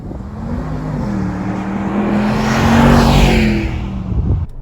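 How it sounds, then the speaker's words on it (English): A 2021 Mercedes-AMG G63 G-Wagon pulling away on the road, its engine swelling steadily louder and lower as it accelerates, then easing off, close and alone without talk. "setting off here in the G-Wagon"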